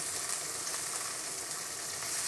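Peppers and garlic stir-frying for chicken chow mein, a steady broad sizzle holding evenly at moderate level throughout, with faint stirring scrapes and no voices.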